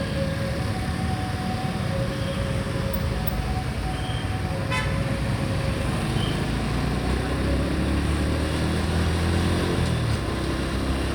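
A train passes near a road while a motorcycle rider waits, with a loud continuous rumble, a tonal horn-like whine and a sharp clatter partway through, all under heavy wind and traffic noise.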